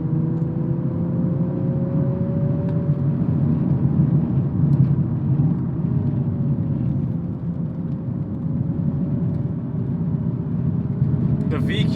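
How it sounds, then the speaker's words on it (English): A Nissan 370Z NISMO with its VQ engine is driven on a road, giving a steady, loud engine drone whose pitch slowly rises and falls throughout. "The VQ engine from Nissan is very polarizing. I think that it sounds great."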